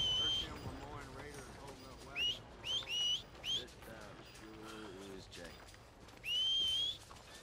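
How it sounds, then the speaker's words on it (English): In the Red Dead Redemption 2 video game, a character gives several short rising whistles to call a horse, spaced out over the scene and set against background game ambience and talk. "Your horse is out of whistle range."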